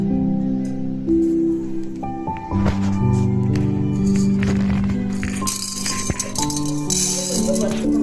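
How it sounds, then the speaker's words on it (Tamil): Chana dal and moong dal dry-roast in a pan, the lentils rattling and skittering continuously against the metal with occasional scraping stirs, close and fairly loud. "கடலைப்பருப்பு பாசிப்பருப்பு நல்லா போட்டு வறுத்துக்கணும்."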